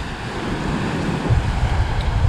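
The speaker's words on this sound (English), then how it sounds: "the ocean is definitely a lot calmer than on this side, which is the north side" Ocean waves on the rough north side of Aruba, a broad steady wash of surf with swelling low rumbles, mixed with gusty wind buffeting the microphone, no talk.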